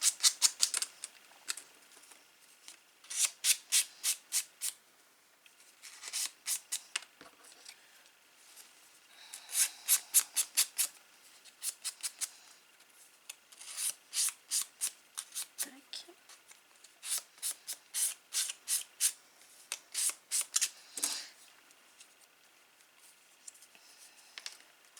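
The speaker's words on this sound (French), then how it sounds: "Je vais y passer un petit coup" A sponge dabs folded paper strips in a craft project, making quick bursts of close, crisp tapping and rubbing repeated in clusters with brief gaps.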